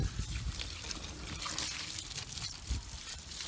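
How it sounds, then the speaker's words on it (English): Water rinsing soap and CLR cleaner off a 41-year-old engine cover, a soft continuous trickle and splashing flow, fairly faint and close. "Rinsing all the soap and"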